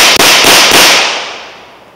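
A pistol gunshot rings out loud and close, a few sharp cracks in quick succession followed by a fading echo.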